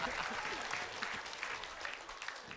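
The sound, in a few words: audience applause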